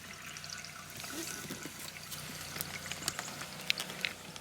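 RV antifreeze is poured into an RV holding tank during winter shutdown of the water system, giving a faint, steady trickling and splashing liquid sound with no voices.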